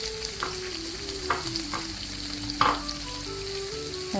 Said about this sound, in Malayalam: ഇനി നമുക്കതിലേക്ക് അരിഞ്ഞു വെച്ചിരിക്കുന്ന സവാള ചേർത്ത് കൊടുക്കാം